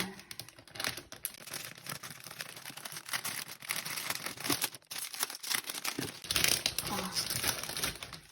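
A Panini Premier League football card packet is torn open, with dense crinkling and crackling of foil wrapping up close, continuous with brief pauses and louder rustling bursts toward the end.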